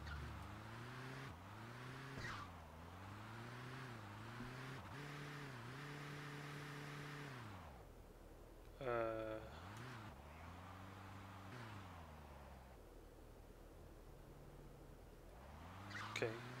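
A car in the video game GTA 2 drives along and turns, its engine note rising and falling through repeated gear shifts. A brief squeal cuts in partway through, and there is a later burst. It stays fairly faint, with occasional talking over it.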